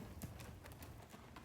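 Horse hooves clip-clop faintly at a calm walk on a loose rein during mount retraining, a few soft, spaced steps under low background noise.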